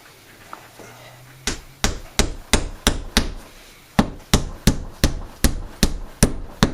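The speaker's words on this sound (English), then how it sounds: "Let's take the time in nailing. 3 nails, huh? 3 nails on each 2x4s." Hammer driving nails into 2x4 lumber, with about fourteen sharp, evenly spaced close blows in two runs separated by a short pause.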